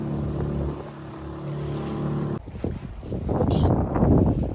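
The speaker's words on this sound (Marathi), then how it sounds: "नॉर्मल छोट्या वाटतात पण भरपूर मोठ्या लाटा आहेत या" A low motor drone gives way to the washing, splashing surge of large sea waves breaking during a pomfret fishing trip at sea, with wind noise throughout.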